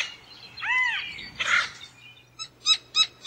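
Several calls from an acorn woodpecker, a cooperatively breeding bird that stores acorns in drilled granary holes: a rising-falling call first, then a harsher burst, and three short sharp notes near the end, all fairly close and clear.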